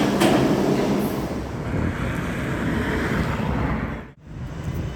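A train rolls along steadily, a continuous loud rumble with faint clickety-clack, close by and alone, briefly dipping near the end.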